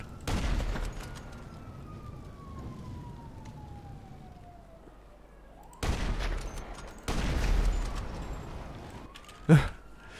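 Gunfire in the GTA V video game: a few sharp in-game shots spaced apart over a siren wailing and falling in the background.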